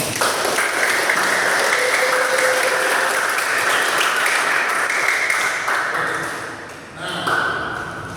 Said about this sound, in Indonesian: Tepuk tangan bagi semua.